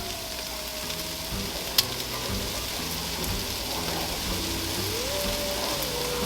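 Bacon and eggs sizzle steadily in a frying pan outdoors, a dense continuous crackle with one sharp click partway through and no talking.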